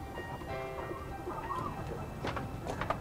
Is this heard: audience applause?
no